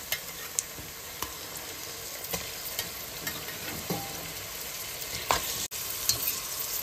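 Onions and green chillies frying in a pan, a continuous close sizzle with occasional spoon taps and stirring scrapes.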